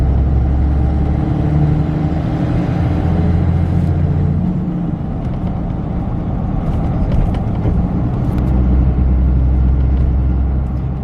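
A manual truck engine accelerates while driving, a loud, close low rumble that climbs, dips at a gear change, then builds again, heard from inside the cab.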